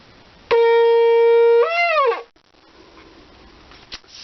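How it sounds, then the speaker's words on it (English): A black ram's horn shofar sounds a single loud, steady blast that ends in a bending, wavering upward break before dropping away, leaving faint room noise afterward. "And we have the black shofar"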